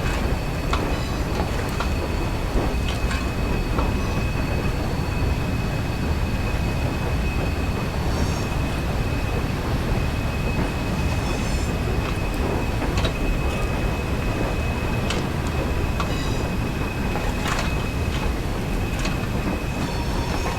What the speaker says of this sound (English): Apply a small amount of brake and bring the train to a stop at the station.